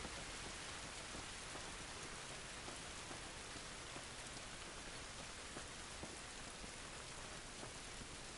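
Steady, dense rain from the video game The Last of Us, a constant hiss of drops on surfaces that fills the whole stretch with no gaps and no voices.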